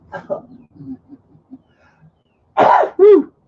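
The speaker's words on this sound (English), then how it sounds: "Sneeze." Soft murmuring gives way to a sudden, loud two-part sneeze, a sharp burst followed quickly by a second close, forceful blast.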